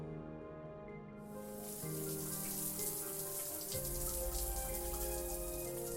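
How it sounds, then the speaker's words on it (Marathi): A hot shower bursts on after a second and runs in a steady, hissing spray of water, constant and close. "तिने गरम पाण्याचा शॉवर सुरू केला"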